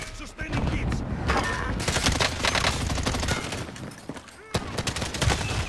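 Rapid gunfire in Call of Duty: Cold War, with loud, dense bursts of automatic fire that keep going almost without a break and sharp cracks layered over one another.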